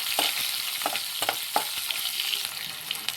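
Chopped onions and small onions frying in a pan for tomato pappu, a soft continuous sizzle broken by several scraping stirs.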